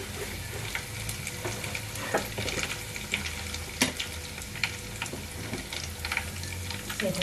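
Curry leaves sizzle and crackle in hot oil with fennel seeds, cooking for mutton ghee roast. A steady, close frying hiss holds throughout, with scattered pops and no talking.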